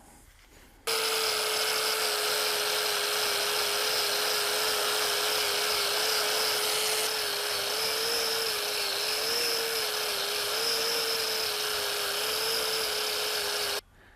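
An angle grinder with a sanding disc whines loudly and continuously on wood for about thirteen seconds, its high pitch wavering slightly as it works against the surface, then cuts off.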